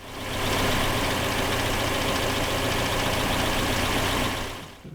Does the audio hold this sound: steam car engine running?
yes